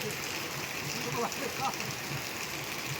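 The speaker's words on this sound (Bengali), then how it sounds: "দেখতে পাচ্ছ যে কত হারে বৃষ্টিটা পড়ছে তোমাদেরকে দেখাচ্ছি একদম হাহা হাহাকার করে জোরে জোরে বৃষ্টি হচ্ছে" Heavy rain pours down steadily in Bhaluka, a dense broadband hiss of water falling on surfaces that holds at an even loudness throughout with no voices.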